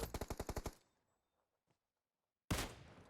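A rapid burst of about eight automatic gunshots rings out in PUBG Mobile, followed by near silence, a faint click, then another loud burst starting abruptly.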